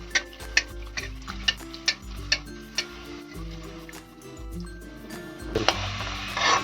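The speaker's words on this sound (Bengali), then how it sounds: "মিডিয়াম আছে আবার ভেজে নেব ওরম লাল করে। তেলটা একটু উপরে দিয়ে দেব।" Pieces of stale roti frying in oil in a pan, a soft sizzle under sharp rhythmic ticking clicks of a utensil, close by, with a brief louder clatter near the end and no talking.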